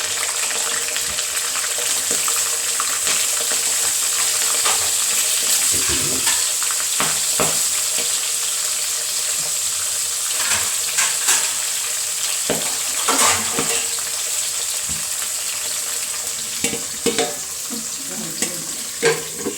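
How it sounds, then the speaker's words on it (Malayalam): Garlic, kanthari chillies and ginger fry in hot oil with a steady close sizzle, punctuated by scattered sharp spluttering pops that grow more frequent toward the end, with no voices. "വെളുത്തുള്ളി, കാന്താരി, ഇഞ്ചി, ഇത്രയും സാധനങ്ങൾ ഞാൻ ഇട്ട് കൊടുക്കുകയാണെ"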